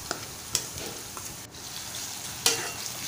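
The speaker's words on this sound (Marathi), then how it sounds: "आता आपण टोमॅटो घालून घेऊया" Tomatoes and onions fry together in a pan for prawn masala, giving a soft, constant sizzle broken by a few sharp scraping clicks as a spoon stirs them, with no one speaking.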